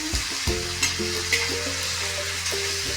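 Green chili thecha being stirred in a pan, a steady sizzle broken by several sharp scraping knocks of the spoon against the metal, close and alone with no talk.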